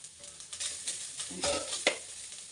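Urad dal, dried chili and curry leaves crackle and sizzle in hot oil in a pan over a medium flame, with brief stirring scrapes and a few sharp pops, fairly quiet and close, with no voices.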